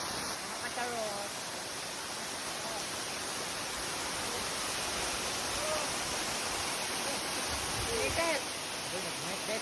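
Steady broadband rush of strong water flow at Ar-arbis Falls, a constant distant hiss of the waterfall with faint bird calls over it.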